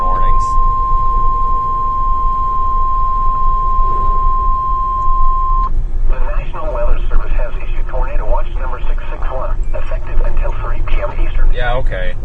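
A long, steady Emergency Alert System attention tone plays over the radio during Hurricane Idalia in Florida, holding a single pitch for several seconds. Radio speech then follows over constant storm and car noise.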